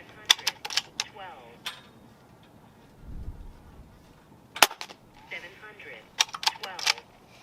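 Gamo Arrow .22 air rifle firing pellets, heard as a few sharp, close snaps scattered among bursts of talk, with a low thump partway through.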